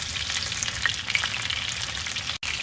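Chicken frying in a pan on low heat, a steady close crackling sizzle with scattered small pops, continuous and alone.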